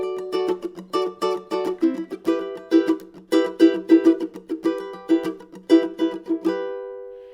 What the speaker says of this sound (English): a syncopated strumming pattern that also involves some muting